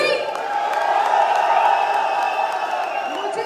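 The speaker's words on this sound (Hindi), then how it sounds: "चलिए तालियों के साथ एक बार शोर भी बजा देते हैं" A large seminar audience claps and cheers loudly together, a sustained dense wash of applause with whoops running steadily throughout.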